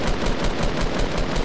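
Rapid automatic gunfire in Fortnite, a dense, loud, continuous burst of shots with a steady rattling rhythm, close and sustained for the whole moment with no talk over it.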